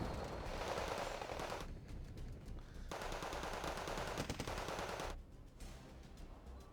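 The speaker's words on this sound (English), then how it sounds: "they're just going to be engaging each other with machine gun fire out a long distance" Machine gun fire in the video game Wargame Red Dragon, sustained bursts of rapid gunfire in two long volleys separated by a short gap, loud and continuous, with no talking.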